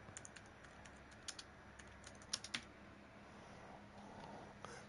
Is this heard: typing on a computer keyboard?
yes